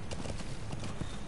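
Horse hooves clip-clop at a steady trot in the game Metal Gear Solid V: The Phantom Pain, a run of close, repeated dull thuds layered over a continuous low game background.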